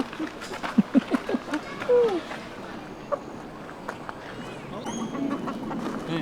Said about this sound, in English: Watch the ducks.